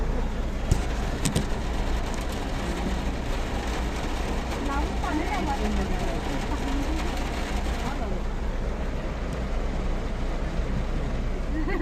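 A car engine idles and churns through a flooded road during a cloudburst near the Mamnoli speed breaker, a constant low rumble with rushing water, voices talking over it.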